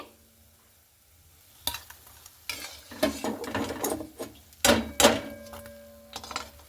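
Palm fruit fritters (taler bora) being deep-fried and lifted out of the oil, quiet bubbling with several sharp scraping and clattering knocks of a slotted spoon against the pan, irregular and close.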